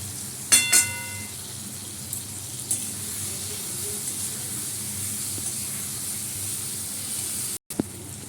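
Potato curry with turmeric and chilli powder sizzles steadily in a pan after a brief splash of added water, a continuous hiss of frying carrying on close and fairly quiet, with no talk.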